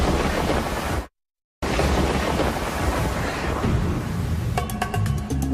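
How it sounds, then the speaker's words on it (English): Heavy rumbling thunder roars loud and continuous, cut by a brief moment of silence before the rumble resumes. "could this be Earth's most powerful lightning?"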